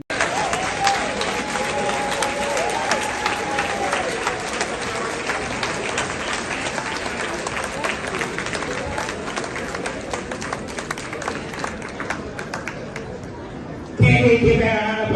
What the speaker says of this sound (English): Can we give a round of applause, please?